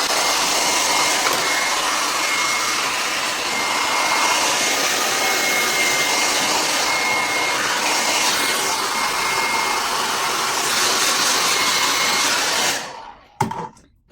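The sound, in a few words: hair dryer blowing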